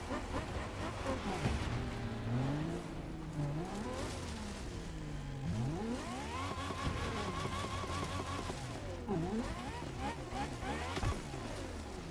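A McLaren's engine revs and roars through gear changes in The Crew Motorfest racing game, loud and continuous with rising and falling pitch sweeps, while someone talks over it.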